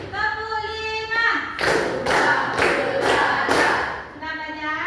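Schoolchildren clap together in a counted classroom clap routine, delivering five quick, rhythmic group claps in a steady burst, close and loud, framed by talking and children's voices.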